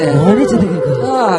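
A human voice imitates a wolf's howling, growly cry at an outdoor temple-consecration stage concert, loud, close and wavering, with a brief burst of speech-like sound.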